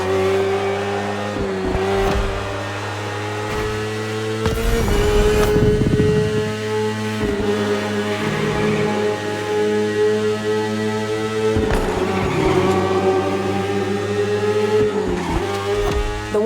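A BMW S1000RR superbike engine in the video game The Crew Motorfest drones steadily at high revs with shifting pitch and brief surges, loud and continuous, with no talking.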